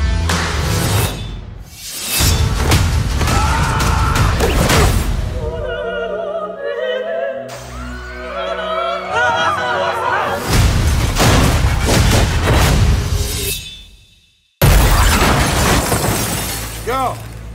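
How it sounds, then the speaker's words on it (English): A car smashes through a restaurant front with heavy crashing and glass shattering, loud bursts mixed with music and speech in a film trailer, with a brief silent gap near the end. "You smashed the car through a restaurant!"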